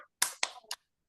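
Three quick, sharp hand claps, short and fairly faint, ring out in a classroom clap-focus game led by a teacher with young pupils.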